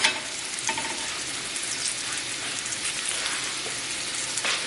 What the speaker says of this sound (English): I'm going to let this run so you get an idea how long it takes to cook the salmon.